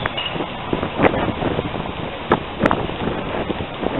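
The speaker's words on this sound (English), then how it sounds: "it's so windy I can't do it" Strong wind buffeting a microphone outdoors at an open-air preaching on City Island, a constant rumbling roar with several louder gusts and thumps, no speech.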